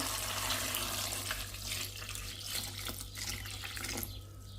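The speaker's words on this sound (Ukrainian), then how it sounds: "Заливаю студену воду." Cold tap water pouring steadily into a cooking pot for cauliflower, a close, continuous splashing hiss that softens slightly as the pot fills, with no talk over it.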